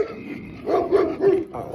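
A big farm dog barking behind a person doing chores, three or four loud close barks in quick succession over a background of outdoor noise.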